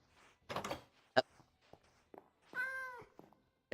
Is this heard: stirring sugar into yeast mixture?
no